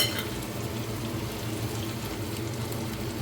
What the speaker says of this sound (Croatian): I sada ćemo dodati malo vode.